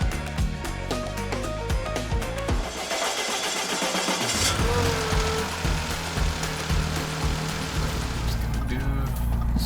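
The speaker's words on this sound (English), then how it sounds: "Driving. Make sure it's running okay." A big-turbo Audi A4 B8 producing over 400 wheel horsepower drives on the road, its engine droning loud and steady throughout with rising and falling revs, and a voice speaks faintly over it.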